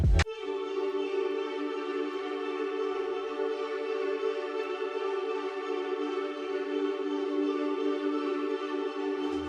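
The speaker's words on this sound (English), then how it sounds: "And then there's this ARP thingy," A synth arpeggio modeled on a track rises out of a quiet start. Sustained, even and moderately soft, it carries a bright shimmering tone with no talking.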